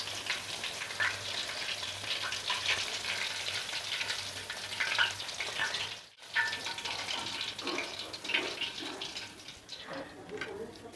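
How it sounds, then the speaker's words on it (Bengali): Coated chicken leg pieces deep-fry in oil over a low flame, a dense, steady bubbling sizzle that drops out briefly halfway through and then returns, with occasional stirring and turning. "ঘুরিয়ে ফিরিয়ে এটা 5-7 মিনিট ভেজে নিচ্ছি।"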